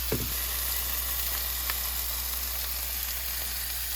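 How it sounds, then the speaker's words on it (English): Beef roast sears in a pan for a crock pot recipe, a steady close hiss of sizzling fat holding level throughout, with a brief stirring or shifting sound at the start and no talk. "So I'm going to sear each side of this meat."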